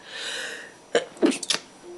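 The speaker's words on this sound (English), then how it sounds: "I'm going to sneeze." A single sharp sneeze, close by, with a quick inhaled buildup and a burst, followed by a short trailing sound in a quiet room.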